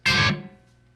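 A single guitar note from a song part is plucked, then cut off quickly by a chop on the strings and a loosened fretting finger. The note sounds bright and strong at first, then dies within half a second.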